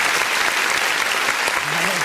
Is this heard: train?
no